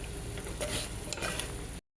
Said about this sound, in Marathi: आता ह्याला घ्यायचं परतून आणि शेवटी टाकायची डाळ